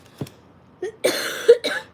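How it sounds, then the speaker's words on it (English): A few short, dry coughs in quick succession, close to the microphone, with a brief pause before the final bursts. "my cough is just terrible"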